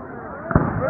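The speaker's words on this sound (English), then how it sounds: "They get scared for the fireworks." A single firework bang bursts out partway through, sharp and fairly loud against a steady murmur of background noise, followed by a brief rumbling tail.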